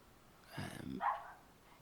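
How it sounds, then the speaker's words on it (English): A dog barks in the background of a home in a poor part of Southport, two quick faint barks close together, brief and with no talk over them. "And there's a dog barking in the back."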